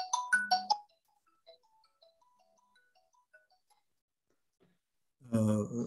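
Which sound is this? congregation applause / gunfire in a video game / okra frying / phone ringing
phone ringing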